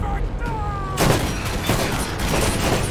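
Enemy gunfire in Borderlands erupts as a dense, loud fusillade of rapid shots, continuous bursts with a few heavier cracks, close and unrelenting across the moment.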